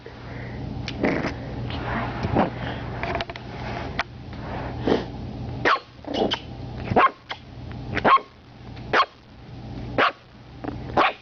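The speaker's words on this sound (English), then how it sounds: "That's a lot of barking." A dog barks repeatedly nearby, sharp loud barks coming in a steady run of roughly one per second over a low background hum.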